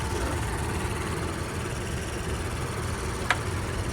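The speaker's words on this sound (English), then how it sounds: "underneath the hood, we have the mighty 3-liter Twin-Turbo EcoBoost V6" A Ford Explorer ST's 3-liter twin-turbo EcoBoost V6 idles steadily under the open hood, a constant low engine drone heard up close with one brief click near the end and no talking.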